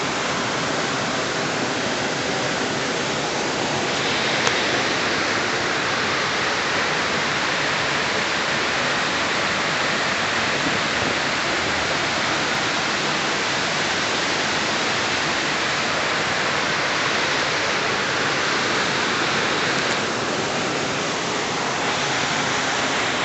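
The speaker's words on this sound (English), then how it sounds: "4 tiers of waterfalls in 3 different streams" Dudhsagar waterfall, four tiers across three streams, pours in a loud, unbroken roar of rushing water with spray, steady and close throughout with no voices.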